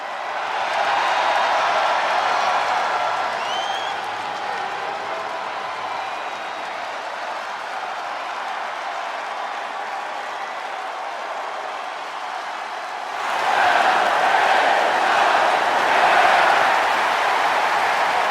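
Large wrestling arena crowd applauding and cheering for LA Knight, a steady loud roar of clapping and voices that holds for many seconds, then swells louder near the end.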